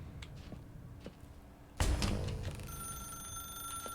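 A telephone ringing in The Stanley Parable, a sudden loud electronic bell tone bursting in halfway through after a quiet stretch and holding steadily to the end.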